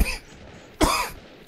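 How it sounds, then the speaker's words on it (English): A person coughs twice in quick succession, a short hoarse burst followed by a louder, sharper one, close to the microphone. "Excuse me, still got that stupid cough."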